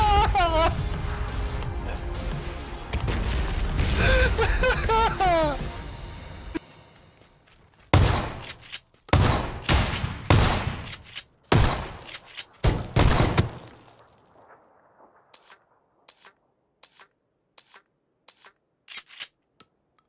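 A loud stretch of music and noise gives way to a series of sharp, booming pump shotgun blasts in PUBG spaced a second or so apart, then fainter clicks and rattles.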